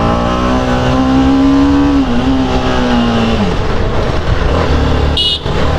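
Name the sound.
TVS Apache RR-310 motorcycle engine revving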